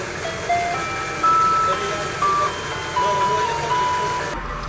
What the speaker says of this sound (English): if you don't hear the ice cream truck in the background, something's wrong